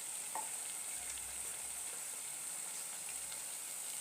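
Doughnuts frying in hot oil in a small sufuria, a steady close sizzle that hisses on without a break.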